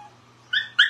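Two short, high whimpers from a puppy, close by, the second slightly louder, over a faint low hum.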